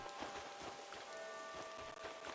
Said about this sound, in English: Well, top of the hour and it's still raining.